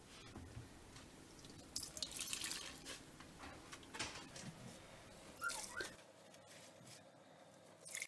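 Standing water being sponged out of the bottom of a dishwasher that will not drain, giving soft close sloshing, squeezing and dripping sounds in irregular bursts, with a quieter stretch near the end.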